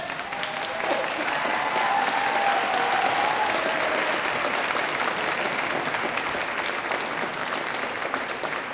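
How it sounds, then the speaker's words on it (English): Sustained applause from a graduation ceremony audience for the School of Health Sciences, a dense even roar of clapping with brief faint voices near the start. "So if our graduates can stand up and give your friends and your families that round of applause"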